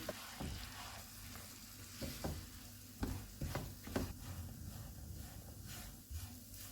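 Semolina being stirred into boiling salted water for potato garlic rings, a quiet bubbling sizzle with soft spoon scrapes and knocks at irregular intervals, faint and close with no voices.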